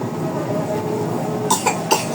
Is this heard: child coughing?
yes